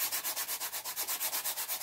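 Sandpaper rubbed by hand along an edge, a steady run of about a dozen quick back-and-forth scraping strokes, close and even, with no talking.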